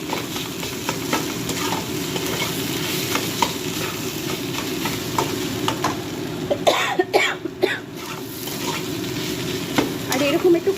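Potato filling for aloo paratha stirred in a kadai, a continuous scraping and gentle sizzle with regular spoon strokes, close and moderately loud, broken by a couple of coughs partway through.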